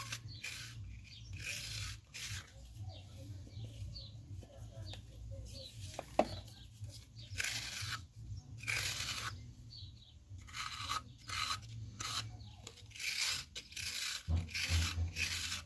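A ceramic kidney tool smooths the wall of a clay pinch pot in repeated soft scraping strokes, each a brief rasp, close and fairly quiet with low room hum beneath.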